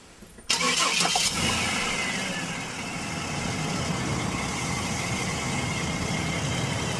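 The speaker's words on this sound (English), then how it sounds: "Start the truck" A truck engine cranks and catches with a sudden loud start, then settles into a steady rough running drone that continues throughout, close by and with no talking over it.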